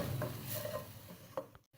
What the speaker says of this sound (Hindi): लहसुन की पेस्ट डाल के इसको हमने 1 मिनट के लिए कुक करना है